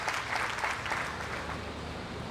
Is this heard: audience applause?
yes